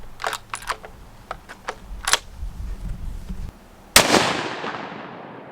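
Several sharp rifle shots crack at a range, followed by a single loud tannerite blast that destroys a can of potatoes, its boom trailing off in a long echoing rumble.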